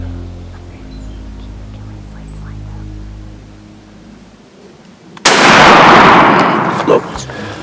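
A single loud gunshot cracks out during a Michigan turkey hunt on Muskegon County public land. A low, steady hum comes before it, and the blast's echo rolls on for a couple of seconds.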